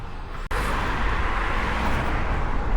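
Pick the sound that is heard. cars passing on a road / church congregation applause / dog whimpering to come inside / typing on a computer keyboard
cars passing on a road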